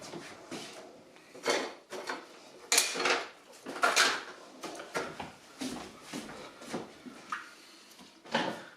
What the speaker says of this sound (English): Let me stir this real quick